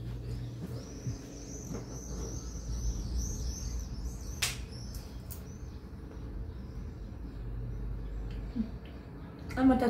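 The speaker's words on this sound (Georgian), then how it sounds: "Ჩიტების ხმა." Small birds chirp and twitter outdoors on a morning after the weather clears, light repeated calls early on over a low rumble of background noise, with a few faint sounds near the end.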